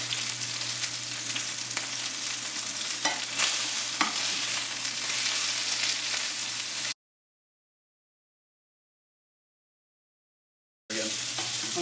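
A steak sizzles steadily as it sears in a hot frying pan with occasional scraping, then goes silent for a few seconds before the sizzle returns.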